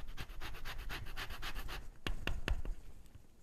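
An orange zested on a microplane in a home kitchen: quiet steady rasping strokes repeat in a regular rhythm, then a few sharper scrapes follow, close and faint with no talking.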